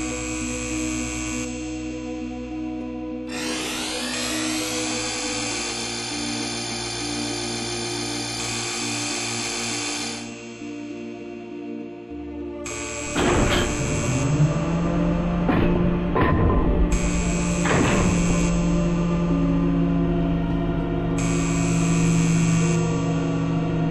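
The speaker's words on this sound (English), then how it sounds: "Laser confinement shield will be ignited in T-minus 5 seconds." Reactor startup sequence igniting a laser confinement shield: loud sustained electronic drones and whines with sweeping tones rising and falling, then a heavier surging roar with shifting pitch bends, continuous and alone.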